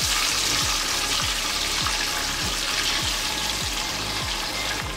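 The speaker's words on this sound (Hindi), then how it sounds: "सबसे पहले मैं ये लेग पीस फ्राई करूँगी" Chicken leg pieces fry in hot oil for biryani, a loud steady sizzle and bubbling with a regular pulsing beat running underneath.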